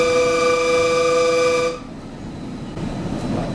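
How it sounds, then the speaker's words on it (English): A St. Louis light rail train sounds a short, bright horn toot for about two seconds, cutting off abruptly and leaving a rumbling rail and track background that swells slightly near the end. "Did our light rail just go toot?"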